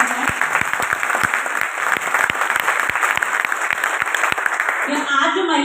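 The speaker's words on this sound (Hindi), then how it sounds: "मैं चाहूंगी उन महिलाओं के लिए एक जबरदस्त तालियां बजाएं" Enthusiastic audience applause at a business seminar fills the room, dense clapping with a few sharper claps, fading near the end as a voice begins speaking.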